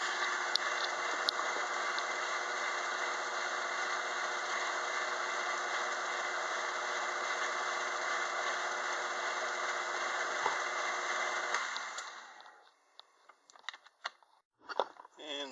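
A lathe's gear train runs steadily during a test run, driving the carriage on its coarser feed through change gears such as a 64-tooth gear; a continuous close mechanical whir and hum cuts off near the end, leaving brief clicks and handling noises.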